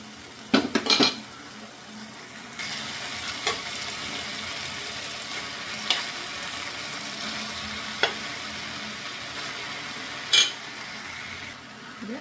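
Cooked rice being mixed in a pan for tomato chitranna, with a steady scraping and stirring texture punctuated by several sharp utensil knocks against the pan, close and moderately loud with no talking.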